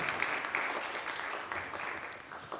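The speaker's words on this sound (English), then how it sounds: "Let's give them another round of applause." An elementary school musical audience claps after a performance, a dense, steady wash of applause at moderate distance lasting a few seconds.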